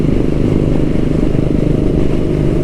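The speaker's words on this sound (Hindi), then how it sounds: "और एक गाड़ी की स्पीड बढ़ेगी।" A motorcycle engine on a biker club group ride: a loud, close, low rumble that holds steady for nearly three seconds, with no voices heard.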